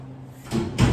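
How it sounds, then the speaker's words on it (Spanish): A door being pulled shut in a classroom, a soft scrape followed by a firm, close thud, heard alone without talk. "Déjenme cerrar la puerta"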